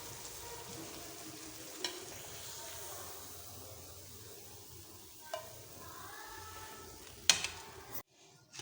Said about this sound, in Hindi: हमारे ये कबाब भी अच्छे तरीके से फ्राई हो गए हैं